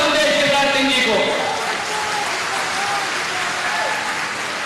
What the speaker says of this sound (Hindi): तालियों की गड़गड़ाहट से धन्यवाद हम दें शिवराज सिंह जी को।